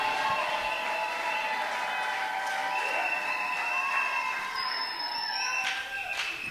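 Church congregation applauding and cheering together at a French-language worship service, a steady dense wash of clapping and voices held throughout, with sustained tones from music or singing running underneath.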